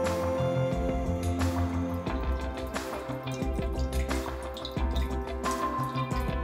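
Blue coolant flushed from a radiator drains into a bowl with uneven drips and splashes, close and fairly loud, trickling steadily with occasional sharper plops and no voices.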